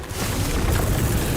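The Confringo explosive spell in Hogwarts Legacy bursts as a short, dense, rumbling boom that stays loud and broad for its whole brief length, with no voices.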